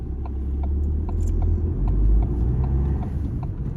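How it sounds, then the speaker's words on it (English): Steady road traffic on a driving test route, with a low engine rumble that swells as a car passes near and then eases off, and no talking. "So there are so many cars coming other side"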